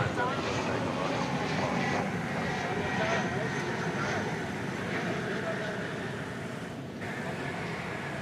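A Finnair airliner at DFW turns onto runway 18 left, its jet engines a steady, broad roar at a moderate distance, joined by a faint radio voice.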